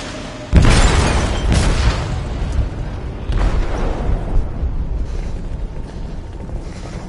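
An explosive detonated in a ship's hold in the video game Detroit: Become Human: a sudden loud boom, then a long rumbling, crackling roar with secondary bursts that gradually fade.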